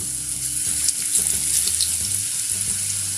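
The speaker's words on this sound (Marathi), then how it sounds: "आपण आता हे असं सगळं तळून घ्यायचं" Ingredients for Mumbai-style vada pav chutney frying in hot oil in a pan, a dense continuous sizzle with faint stirring and scraping clatter underneath, close and steady throughout.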